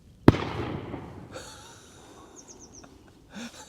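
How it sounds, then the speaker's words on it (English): A gas gun bird scarer set to keep cormorants away fires one sharp, loud bang that rolls off into a fading echo, followed by faint birdsong and a brief rustle. "I've got gas guns to keep cormorants away."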